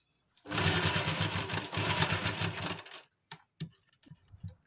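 A sewing machine runs long, large stitches along the plates of a lined kurti, whirring loud and steady for about two and a half seconds before a few separate clicks and knocks of fabric handling.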